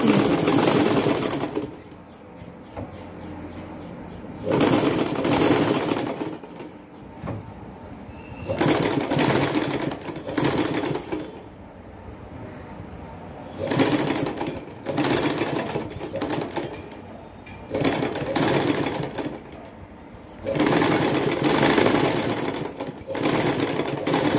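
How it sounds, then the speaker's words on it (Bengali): An electric sewing machine stitches a seam on a baby yoke frock in several loud, close bursts of a few seconds each, separated by quiet pauses as the fabric is adjusted. "বন্ধুরা এই যে আমি পাশে এই যে আরো একটা সেলাই বসিয়ে দিব"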